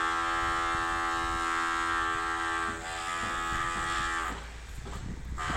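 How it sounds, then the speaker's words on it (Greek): A drill running at a concrete construction site for the AEK stadium project gives a steady, loud mechanical whine with a harmonic drone that holds for several seconds and then roughens near the end, with no talking. "Αυτό που ακούτε είναι τρυπάνι"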